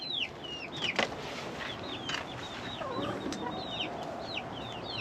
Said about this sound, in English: I know you're a hen.